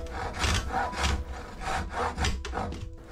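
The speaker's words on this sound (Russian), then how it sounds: "Ручная пила – хорошая альтернатива бензопиле, если речь идет о небольших объемах работы, как сейчас." Hand saw cutting through wooden floorboards at a small forest cabin, with about six rhythmic back-and-forth strokes, close and fairly loud, no talking.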